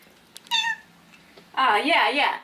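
A cat gives two meows, a short one followed by a longer, wavering one, close and clear in a quiet room.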